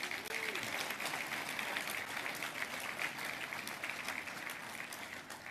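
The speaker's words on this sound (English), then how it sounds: "Let's give our sponsors a big round of applause," Sustained audience applause fills a room at an Army forum and awards breakfast, a dense, even wash of many hands clapping with no talking over it.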